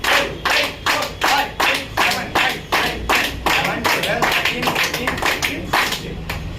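A group claps in unison at a wedding anniversary celebration, producing steady, rhythmic, evenly spaced claps that carry on throughout, loud and close, with voices faintly mixed in.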